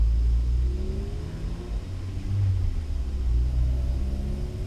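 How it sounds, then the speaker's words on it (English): Steady low rumble and whir inside a Mazda MX-5 with the heating system running, mixed with engine drone and slight revving swells, continuous and fairly loud with no talk. "So this noise that you're hearing is the heating system"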